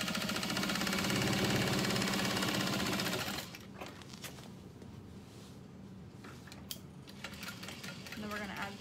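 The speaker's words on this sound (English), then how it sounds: "I'm going to do a double line of stitching" A domestic sewing machine running a double line of stitching on a bag, a fast steady whirring buzz for about three seconds that then stops, followed by quieter handling and fabric shuffling.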